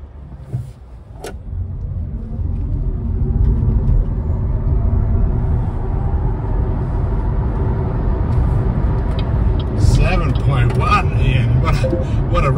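A BYD Dolphin electric car accelerates hard from 0 to 100 km/h, heard from inside. A rising electric motor whine sits over a steady road rumble, and voices join near the end.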